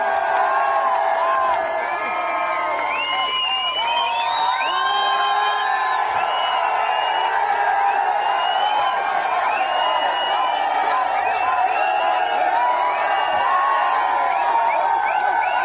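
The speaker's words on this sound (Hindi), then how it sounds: "जोरदार तालियां, जोरदार हल्ले के लिए सर" A large crowd at a speaking event in Jaisalmer cheering and shouting loudly and continuously, with whoops and raised voices over a dense roar and only light clapping within it.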